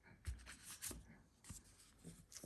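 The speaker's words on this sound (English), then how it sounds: "These cards are really, really hard to shuffle." A deck of reading cards is shuffled by hand, giving quiet, irregular riffling and sliding bursts with soft taps, close and faint, with no talking.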